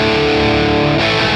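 Les Paul electric guitar played through a Friedman amp model set all on 10 with the bright switch on, giving a loud, thick, sustained distorted chord that shifts to a new chord about a second in.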